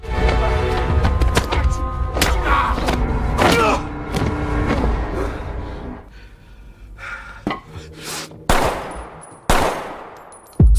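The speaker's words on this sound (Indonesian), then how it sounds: "tiba-tiba Ovi berada di sana mengambil pistol milik Gaspar dan menembaknya sampai tewas" Gunfire in an action scene from the film Extraction: rapid bursts of sharp shots with clattering impacts, then isolated loud single cracks after a quieter stretch.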